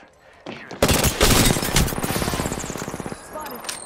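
Rapid automatic gunfire in the Apex Legends battle royale, a loud sustained burst of close shots after a brief lead-in, followed by lighter repeated fire and scattered impacts, with faint talk under it.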